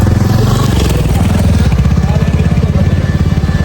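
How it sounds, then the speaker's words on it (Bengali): A motorcycle engine runs close by on a hill road toward Sajek Valley, a loud buzzing throb with rapid firing pulses that rise slightly as it moves past. "motor cycle"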